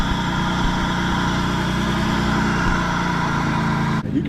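Car engine idling steadily with a new S&B air filter intake, a constant close rumble with an audible intake hiss, ending in a brief clunk.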